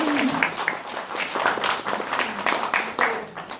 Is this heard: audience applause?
yes